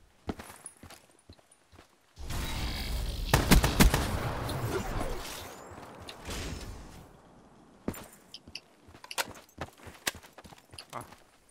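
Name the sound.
rocket launcher fire in a video game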